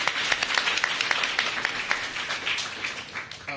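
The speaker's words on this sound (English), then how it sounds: "Let's give them another round of applause." An audience at a mayoral education event applauds for a school, a steady patter of many hands clapping at moderate loudness throughout, with no talk over it.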